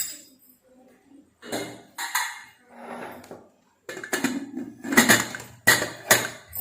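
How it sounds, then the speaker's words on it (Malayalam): A pressure cooker lid is fitted onto a pot of vegetable soup: a series of sharp metallic clanks and scrapes, close and irregular, growing denser toward the end. "ഇനി നമുക്ക് കുക്കർ മൂടി വെക്കാം"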